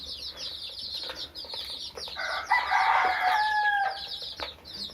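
Kairali chickens cluck and call nearby, a rooster-like drawn-out cry rising in the middle amid scattered clucks.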